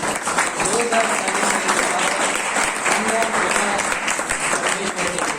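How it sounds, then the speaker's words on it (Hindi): A church congregation at a Good Friday youth service claps warmly, a dense, steady applause lasting several seconds with voices faintly mixed in. "एक अच्छी शानदार ताली हो जाए."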